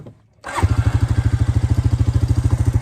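A four-wheeler ATV engine catches after a moment of quiet, then runs loud and close with a steady, rapid pulsing chug, outdoors in deep spring snow by a fence line.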